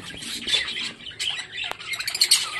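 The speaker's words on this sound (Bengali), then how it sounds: "দেখুন কত সুন্দর একটা লুটিনো বাজিকার পাখির বেবি।" A lutino budgerigar chick and lovebirds squawk close by in a cage, a busy series of harsh, chattering calls and chirps with short bursts throughout.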